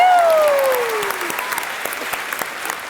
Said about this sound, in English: Everybody, round of applause for our moderator